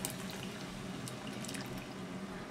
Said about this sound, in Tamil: இப்போ நம்ம அந்த புளியை தண்ணி ஊற்றிடலாம்.